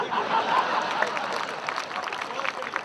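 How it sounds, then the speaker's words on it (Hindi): Audience at a Hindi kavi sammelan poetry gathering breaks into applause, a wash of clapping and crowd murmur at moderate distance that holds steady for a few seconds, with a voice speaking over it at the start. "अब आपकी तालियां उठें"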